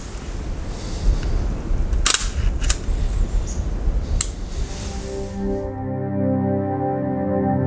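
A camera shutter fires on a tripod outdoors on rough terrain, giving a few sharp, separate clicks over steady background noise, followed by a sustained tone.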